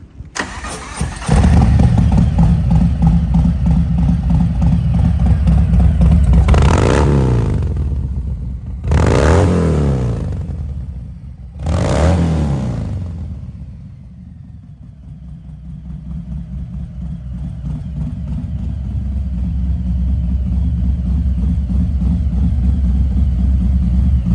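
A 2018 Harley-Davidson Fat Bob FXFBS with its 114 cubic inch, 1,868 cc V-twin starts up, then gives two sharp revs that fall back to a deep, loud idle, with no other sounds.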